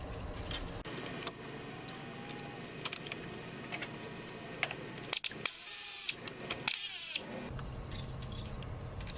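Installing a cold air intake tank on a 2011–2014 Ford Raptor F150 6.2L: a reservoir bolt is mounted with light metallic clinks and tool rattles, then a couple of louder ratchet-like bursts, close up with no talking.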